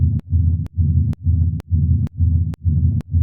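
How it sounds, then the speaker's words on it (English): A deep, throbbing low rumble pulses in a steady rhythm, each swell cut by a sharp click, loud and alone. "I just found like a rumble sample or something."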